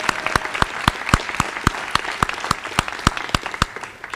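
In a school senior awards assembly, the crowd applauds two basketball players with loud, crisp, rhythmic clapping close by, mixed with a broader spread of hands.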